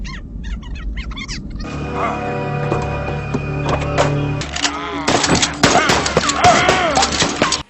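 Gunfire from the zombie movie Children of the Living Dead, with a dense flurry of loud shots and bursts in the second half, preceded by film voices and music, all heard through a playback.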